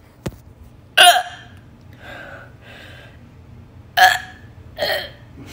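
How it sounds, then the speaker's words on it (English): Several sharp hiccup-like vocal bursts, one at a time with gaps between, close and fairly loud, after eating spicy habanero popcorn outdoors. "Hiccups are fucking disgusting."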